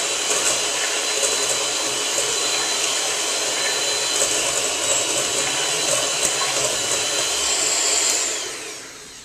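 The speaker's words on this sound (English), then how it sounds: "we're going to use a hand mixer to just beat this for a couple seconds until it's fluffy" Hand mixer beating softened cream cheese until fluffy for ice cream, a steady loud whirring motor drone with a high whine, running continuously for several seconds before tapering off at the end.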